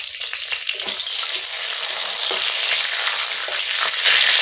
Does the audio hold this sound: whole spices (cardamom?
yes